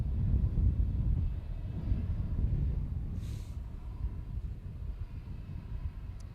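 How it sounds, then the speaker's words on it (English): Jetstar Airbus A320 jet taxiing past at a major international airport, a steady low broadband engine rumble holding even and moderately loud throughout, with no voices. "And now taxiing past us is a Jetstar A320, Jetstar Flight 410"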